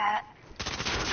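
Rapid bursts of video game gunfire crackle through most of the moment, dense and fairly loud, with a brief quieter gap before the shooting resumes steadily.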